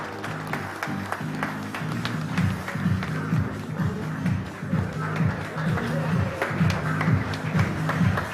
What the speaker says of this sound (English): Come on, everybody, give him a huge round of applause.